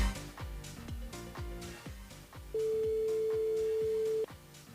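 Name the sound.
outgoing phone call ringing during a live radio show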